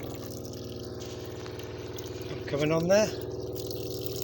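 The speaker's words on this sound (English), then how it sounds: "anyone who's had a camper van before knows the pumps are annoyingly noisy" A small water pump under a camper van sink hums steadily with a rhythmic pulsing buzz, while a person speaks briefly over it and water runs into the sink.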